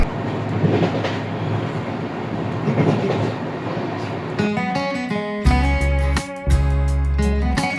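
The 13009 Doon Express passenger train runs from Howrah to Rishikesh with a loud, continuous rolling rumble on the rails. Partway through, music comes in on top of the train noise.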